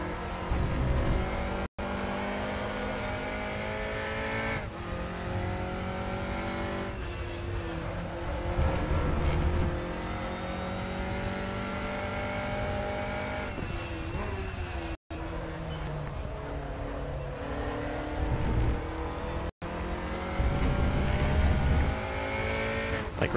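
Formula Junior race cars in the RaceRoom racing game roar continuously, engines revving up and down through gear changes with brief tire squeals, loud and close for the whole stretch.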